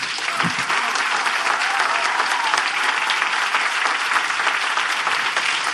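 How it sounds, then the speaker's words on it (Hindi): Dense, steady applause from an audience at a Christian ministry gathering, clapping for their parents; loud, continuous and close, filling the whole stretch without pause. "आइए हम अपने माँ बाप के लिए ताली बजाएं।"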